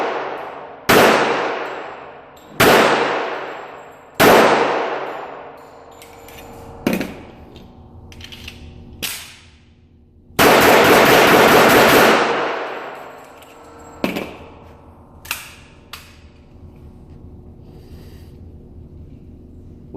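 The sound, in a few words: gunshots test-firing reloaded ammunition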